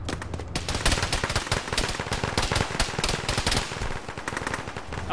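Dense automatic and rifle gunfire rattles almost nonstop through a close-range firefight in the ArmA military video game, rapid bursts overlapping with single shots and no pauses.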